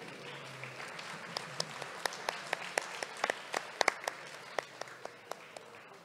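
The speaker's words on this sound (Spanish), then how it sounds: "Fuerte ese aplauso" Scattered applause from a small audience, individual sharp claps standing out at a quick, irregular pace, fairly close and moderate in volume.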